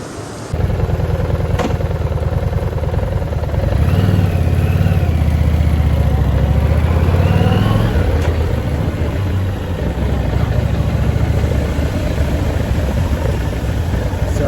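A Harley-Davidson Street XG750 motorcycle rides through a heritage area on Yakushima Island, its engine a steady, close, continuous drone with gentle throttle that swells briefly in the middle before settling back to an even rumble.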